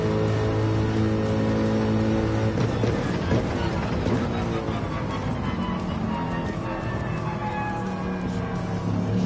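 An AMG race car in Gran Turismo 7 accelerates through the gears with a loud, sustained engine note that holds steady and then rises, with a commentator talking over it.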